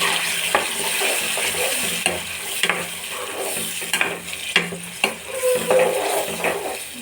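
Spinach pickle paste sautéing in a pan, a steady sizzle broken by repeated scrapes and taps of a spoon stirring against the pan, close up.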